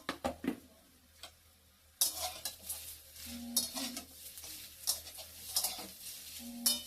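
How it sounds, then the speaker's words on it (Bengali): Stale roti fries in hot oil in a wok, a moderate sizzle broken by scraping stirs and light clinks of a utensil against the pan, with no one talking. "আমি আগে রুটিগুলোকে ভেজে নেব কড়াইয়ের মধ্যে ভেজে নেব"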